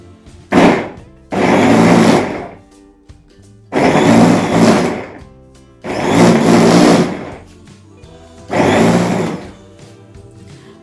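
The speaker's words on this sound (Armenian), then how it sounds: "Հիմա այս բոլորը միասին բլենդերեմ։" An electric blender whirs through onion, garlic and boiled potatoes in five loud, close bursts of roughly one to two seconds each, separated by short quiet pauses.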